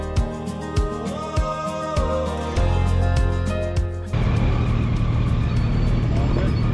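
A car pulls away from a petrol stop on a long road trip. A low engine rumble with some tonal sound over it swells into a broader, steady roar partway through.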